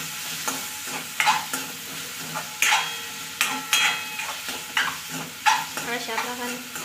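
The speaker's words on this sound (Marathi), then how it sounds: "आता आपण शिमला मिरची, टोमॅटो हे सोबत टाकून घेऊया आणि याला सॉफ्ट होईपर्यंत आपण परतून घेऊया।" Capsicum and tomato sauté in a pan with a continuous sizzle, punctuated by irregular, sharp spoon strikes and scrapes against the metal as the vegetables are stirred and turned.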